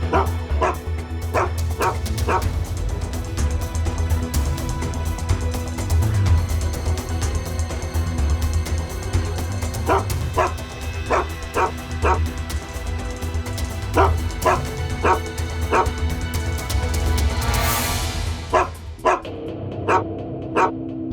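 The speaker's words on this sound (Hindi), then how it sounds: "फिर ये कुत्ता क्यों भौंक रहा है?" A dog at a construction site barks repeatedly in sharp clustered bursts with short pauses between, moderately close over a steady low background hum.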